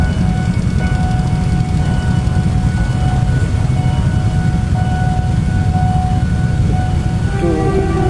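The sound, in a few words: train passing in Thailand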